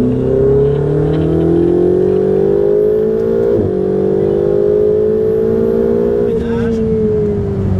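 A car on a track overtakes on the left and accelerates hard. The loud engine note climbs steadily, with two gear changes briefly breaking the rising whine.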